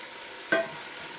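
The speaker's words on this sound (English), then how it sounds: "While that is getting some color and that sauteing" Food sautéing in a hot pan during a home meal-prep session, a steady broadband sizzle with one brief louder burst of stirring midway, no talk.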